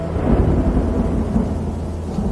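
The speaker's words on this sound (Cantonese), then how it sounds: "落雨啦，快啲行！" Rain begins on a hillside hiking trail as thunder rolls, a steady low rumble with a dense hiss of rainfall throughout and no voices.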